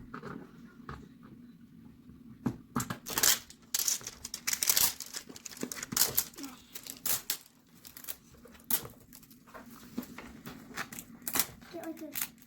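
Plastic packaging around a donut-shaped pillow being torn and crinkled open in a close, irregular series of ripping and rustling bursts, with a child and an adult talking intermittently over it.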